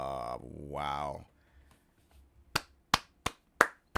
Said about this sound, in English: I can't clap too loud because of the mic